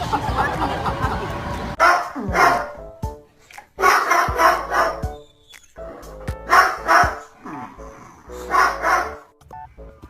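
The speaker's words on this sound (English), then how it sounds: "Oh, now she's barking at the dog." A dog barking in repeated bursts, sharp and loud close by, with short pauses between volleys and some faint talk and household noise in the gaps.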